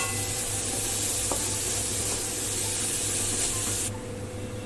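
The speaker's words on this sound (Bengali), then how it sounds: "এবারে এটা একটু হালকা করে ফ্রাই করে নেব।" Capsicum lightly fries in a pan with salt for egg chicken fried rice, giving a steady close hiss of sizzling oil that drops off abruptly near the end. No one talks.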